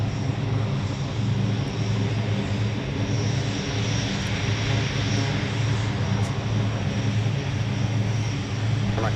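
An airplane departs from Minneapolis airport with a loud, steady engine roar that holds throughout.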